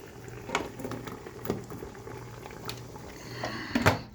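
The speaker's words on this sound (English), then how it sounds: "it says to use 4 cups of water, which you can see is down there in the bottom, boiling away." Water at the bottom of a pressure canner, readied for pints of ground venison, bubbling and boiling with soft gurgles and occasional louder pops and clinks, close and fairly quiet.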